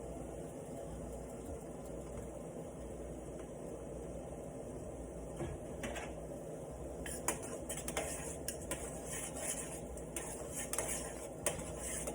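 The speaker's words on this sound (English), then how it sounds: "Just stir a little bit and just to keep it toned down." Maple syrup boiling in a pot for homemade maple sugar candy, stirred now and then: a steady low bubbling rumble with soft spoon scrapes and light clinks growing busier toward the end, no voices.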